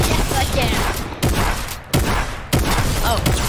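Rapid shotgun fire in the video game Fortnite, three or four sharp loud blasts spaced roughly a second apart over continuous game noise, no talk.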